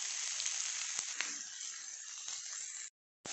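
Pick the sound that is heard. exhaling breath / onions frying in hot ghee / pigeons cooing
onions frying in hot ghee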